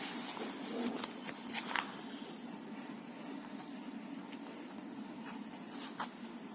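Pencil or pen writes a topic name on paper for an art lesson about bag design, with a steady close scratching, short strokes and brief pauses and no talk.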